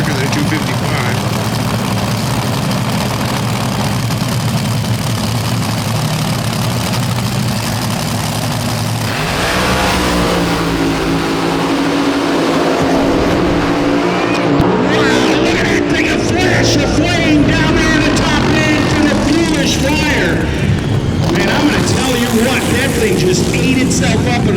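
Thunderous roar of a top fuel dragster blasting past at a drag race, loud and sustained with rising and falling pitch, voices talking underneath.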